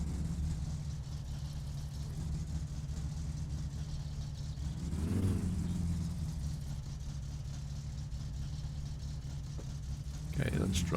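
Car in the game My Summer Car with a failing gearbox, engine droning steadily near and loud, one rising-then-falling rev surge midway and another burst of revving near the end, a voice talking over it.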